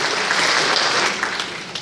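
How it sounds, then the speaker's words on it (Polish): Loud, dense applause fills the room at a political party convention in Białystok. The crowd claps continuously throughout the short burst. "Brawa na Polsona"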